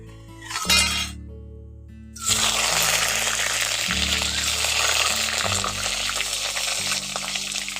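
After a brief clatter, chopped tomatoes hit hot oil tempered with black cumin in a pan for a drumstick curry, setting off an abrupt, loud, continuous sizzle that holds steady to the end.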